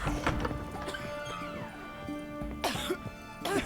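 Several coughs and throat-clearing sounds from characters in The Witcher 3: Hearts of Stone break out over a busy game soundscape with music, horse noises and murmuring voices.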